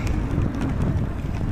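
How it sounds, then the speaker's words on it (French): Steady wind gusting across the microphone outdoors on a ride toward Herbray during La Pannecéenne event near Pannecé, a dense low rumbling roar that stays loud and unbroken throughout. "le vent s'est levé là un peu"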